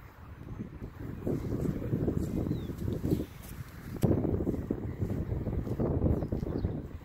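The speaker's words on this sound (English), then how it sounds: "It's pretty windy out here today." Gusty wind buffets the microphone outdoors during disc golf throwing, a low rumbling roar that swells and fades in bursts, strongest around the middle.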